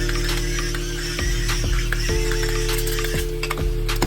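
A pepper mill grinding pepper over a pan of lamb, a close run of rapid ratcheting clicks and grinding mechanism turns, steady and loud over a faint background sizzle.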